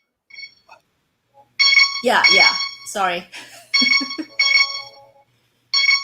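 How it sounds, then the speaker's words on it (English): A mobile phone ringtone chimes close by in repeated tonal bursts, broken up by people talking over it. "Is that your phone?"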